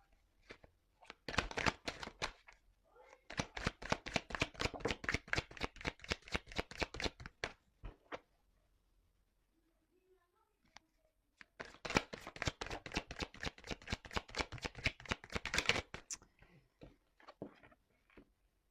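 A deck of cards is shuffled and cut close up in two long runs of rapid, crisp riffling flutters, separated by a quiet pause with a few soft handling taps.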